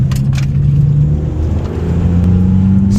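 Engine of a BMW E46 M3 accelerating along a UK road, heard from inside as a loud, steady drone with pitch climbing smoothly through the gear, a few faint clicks early on, and no talking.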